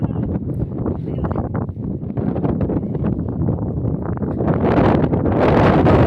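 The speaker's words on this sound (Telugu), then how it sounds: "గాలి ఎక్కువ ఉన్నది." Strong wind sweeps across an open farm field, roaring and buffeting the microphone loudly and continuously, growing slightly stronger toward the end.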